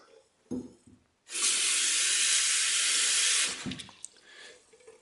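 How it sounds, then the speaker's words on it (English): Tap water pouring into a bowl of rinsed rice: a couple of soft clinks, then a loud steady hissing gush lasting about two seconds before it stops, followed by a faint knock. "make sure to fill it with water so that it covers the rice"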